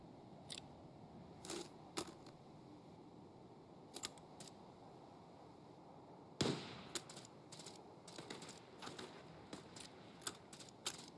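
Gunshots crack faintly during a multiplayer shooter raid, scattered sharp pops and short clusters from far off over a quiet background, growing busier toward the end.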